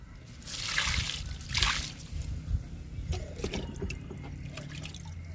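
Liquid fertilizer poured onto potted kanakambaram (crossandra) plants in a home garden, two soft splashing pours early on followed by lighter trickles and drips, close and fairly quiet.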